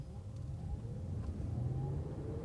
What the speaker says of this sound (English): Now let's just go from 0 to whatever we can get to and see how it works